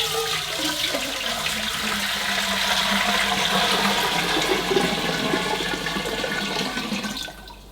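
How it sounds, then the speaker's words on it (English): Hot water pours steadily into a hand-powered Presawash washing machine in a kitchen, a continuous loud gushing and splashing that runs for about seven seconds before cutting off abruptly. "So in goes the hot water."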